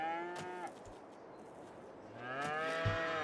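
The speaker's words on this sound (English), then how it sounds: "This farm does have cows." Cattle in Farming Simulator 22 low repeatedly from a game farm, with several overlapping moos, some drawn out and one rising near the end, clear and moderately near over a steady farmyard ambience.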